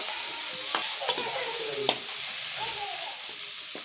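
Chini pointed gourd frying in oil in a wok while a spatula stirs, with steady sizzling broken by a few sharp scraping clicks near at hand.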